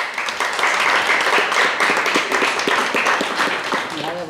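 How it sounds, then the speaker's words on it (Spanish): Loud, sustained applause from an audience at an institutional tribute ceremony for victims of the Ley de Peligrosidad Social, steady dense clapping filling the whole stretch with a voice emerging faintly near the end. "les voy a pedir que la recibamos con un aplauso muy fuerte"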